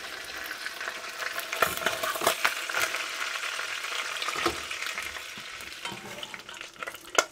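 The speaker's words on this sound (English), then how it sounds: "And then we're going to sweat the onions and the garlic." Onions and garlic sweat in a pan with a soft, fairly quiet sizzle, punctuated by several stirring scrapes and clinks of a utensil, with no one talking.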